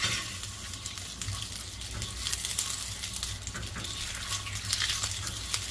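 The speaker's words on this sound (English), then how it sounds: "The constant motion allows you to get a completely even sear on all sides." A rib eye steak sears in a Finex carbon steel pan, giving a steady, fairly quiet sizzle and crackle with occasional sharper pops and no voices.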